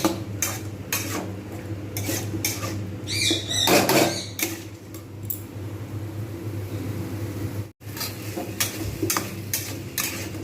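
Spices with turmeric powder being stirred and sautéed in a pan for an omelette curry, heard as a run of repeated scraping and tapping strokes of a utensil against the pan over a low steady hiss.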